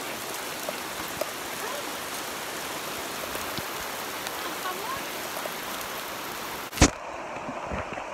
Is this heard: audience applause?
no